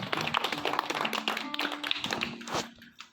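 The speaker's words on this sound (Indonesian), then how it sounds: "Kita beri tepuk tangan Bapak Ibu Saudara." Clapping from guests at a Christian wedding ceremony, a run of quick, fairly close hand claps with uneven rhythm, moderately quiet, tapering off at the end.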